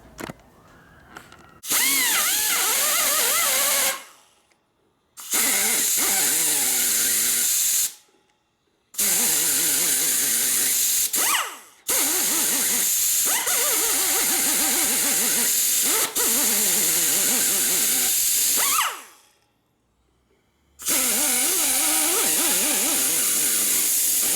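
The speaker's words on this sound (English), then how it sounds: "I'm going to slot it just a little bit with my little die grinder." Die grinder slotting a part on a 1972 Harley-Davidson XL Ironhead Sportster bobber during clutch and primary repair, loud high whine in several long bursts separated by short silent pauses.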